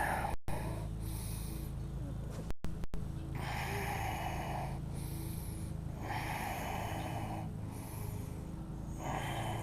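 Slow, deep breaths during a morning yoga flow for runners, each long airy inhale and exhale swelling and fading in a steady rhythm, close and soft with no talking.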